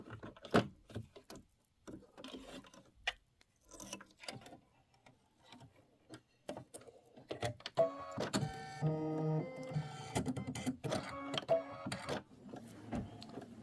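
An embroidery machine stitching an outer border runs in quick irregular bursts of mechanical clatter and whir, growing busier and more continuous partway through, close and fairly quiet, with no talking.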